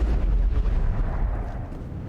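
Heavy, booming gunfire from the krogan Wrex in the video game Mass Effect, loud and close. A deep, rumbling blast rolls across two seconds and slowly fades.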